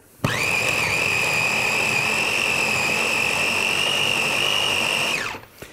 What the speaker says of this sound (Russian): Электроизмельчитель, да. С очень мощным, компактным мотором.